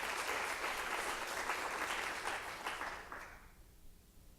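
An audience at a college flex day gathering claps in a brief, moderate round of applause heard from a distance, which thins out and dies away after about three seconds.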